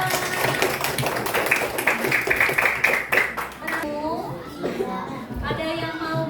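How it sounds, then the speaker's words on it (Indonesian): A group claps together in a school classroom session, giving a dense burst of hand claps for about four seconds that then fades out as people keep talking. "Tepuk tangan untuk kita semua."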